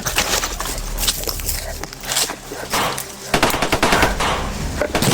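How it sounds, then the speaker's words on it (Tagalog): Bursts of gunfire and rapid machine gun shots crackle loudly and irregularly, with sharp repeated reports clustering in volleys over noisy background and some voices. "Putukan na. Doon, magputukan na sila, oh."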